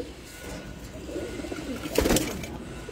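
Quiet, murmuring pigeon coos roll along under a steady background hiss, with a brief burst of flapping or rustling partway through.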